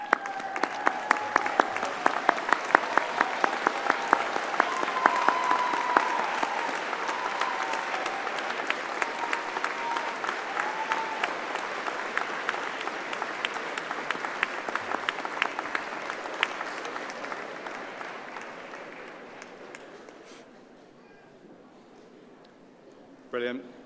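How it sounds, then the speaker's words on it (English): Graduates at a 2017 Faculty of Health & Social Sciences graduation ceremony applaud their supporters in a long, dense burst of clapping that fills the hall, voices and cheers mixed in, then slowly thinning and fading out near the end. "join me in showing your thanks with a huge round of applause"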